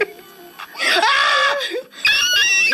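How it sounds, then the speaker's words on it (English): A person screams loudly and at length in two sustained, strained bursts, sounding almost like wailing laughter, close to the microphone. "If you feel like you gotta scream, then scream."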